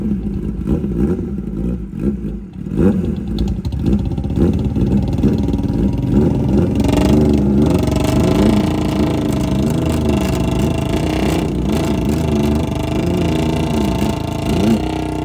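Kawasaki ZX-10R and Royal Enfield Bullet 350 motorcycles revving hard together in a tug of war, a loud, wavering engine roar that surges and pulses continuously, up close with faint voices beneath.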